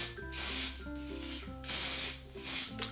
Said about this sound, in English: So I'm just going to go ahead and shake it, and then I'm just going to spray that on my face